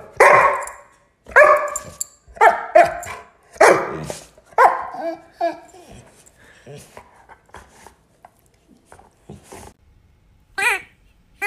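A dog barks and yips in a string of loud, close bursts over the first several seconds, then quieter sporadic barks and whines follow, with a sharp final bark near the end.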